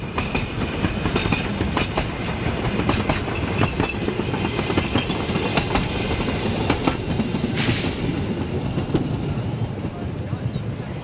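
Narrow-gauge train pulled by a Rügen steam locomotive departing across open country, a continuous loud rumble with rattling wheels and clatter, sharp clicks scattered throughout, and a German voice narrating over it.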